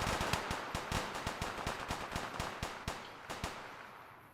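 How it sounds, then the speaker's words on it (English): Automatic gunfire rattles through a firefight in the video game Fallout New Vegas. Rapid bursts of loud shots stay steady, then thin out near the end. "Oh, some more shooting."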